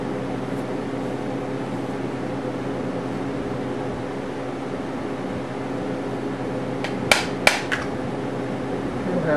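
A flat peen hammer taps guitar frets during a Martin D-28 refret: two or three quick, sharp taps near the end, close and distinct over a steady background hum.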